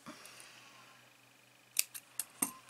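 Scissors snip crochet yarn while finishing crocheted socks, giving four short, crisp cuts close by in the last second of an otherwise quiet, faintly humming room.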